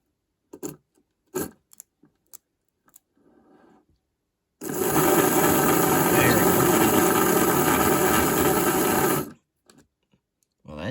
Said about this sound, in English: Let's put power directly into the motor though.